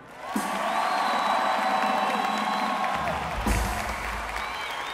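A live concert crowd applauds and cheers steadily, with scattered whoops over continuous clapping, swelling slightly near the end, after a call to cheer at a show in Delaware.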